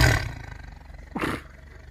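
A big cat lets out a short, rough roar near the start, followed by a second brief throaty burst, close and fairly loud against quiet background.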